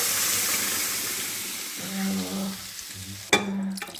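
Mashed pav bhaji vegetables go into a hot tadka with Kashmiri chilli powder, setting off a steady hiss that flares into a sudden loud sizzle near the end, close and clear.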